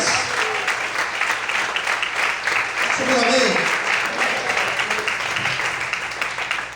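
A church congregation claps and praises during an evening worship service sermon, the applause steady throughout while the preacher keeps speaking loudly over it.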